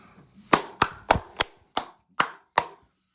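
Seven sharp, close hand claps sound at a slow, slightly uneven pace from a single person, each one crisp and separated by a short silence.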